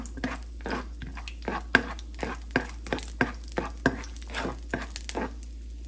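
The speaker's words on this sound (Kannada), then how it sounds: "ಸೊ ಈಗ ಒಂದು ಸ್ವಲ್ಪ ಗೋಡಂಬಿ ಹಾಕ್ತಾ ಇದ್ದೀನಿ. ಇದನ್ನು ಒಂದು ಸ್ವಲ್ಪ ಹುರ್ಕೊಳ್ಳೋಣ." Cashews cooking in ghee in a pan for banana halwa, a steady faint sizzle under a string of crisp tapping and scraping knocks, while someone talks over it.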